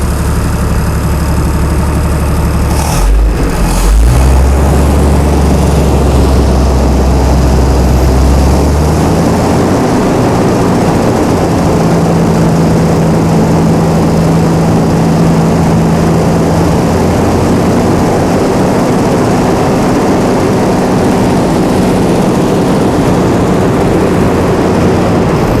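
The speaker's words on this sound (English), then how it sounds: "I'm going to rev it a little bit past that just for the heck of it" A Chrysler Slant 6 engine driving a generator set revs up with a loud burst near the start, then settles into a steady, heavy low drone running continuously at close range.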